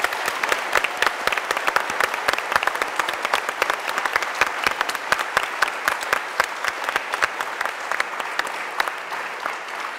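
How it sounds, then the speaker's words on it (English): An audience at a talk on consciousness, with an orchestra present, gives a strong, continuous round of applause, closely packed claps with crisp individual hand strikes standing out near the listener throughout. "I'm going to ask if it's okay for 3 rounds of applause"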